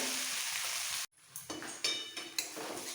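Rui fish head, cabbage and potato fry in a pan with steady broadband sizzling, broken by a brief silent cut and then scraping stirs and a few clinks of a utensil against the pan.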